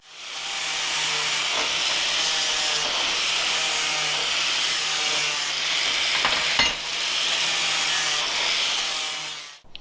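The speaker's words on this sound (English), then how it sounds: "Now I'm going to use a flap disc to knock off a little bit of the edges" Continuous harsh abrasive grinding of a spinning flap disc against metal plate edges, loud and close, with brief changes in pressure.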